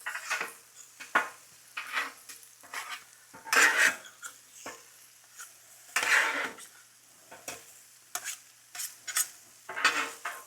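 Vegetables for a Philly cheesesteak stirred and sautéed in a hot pan, with a soft sizzle under repeated scraping, clinking utensil strokes that come in irregular bursts, fairly close and quiet.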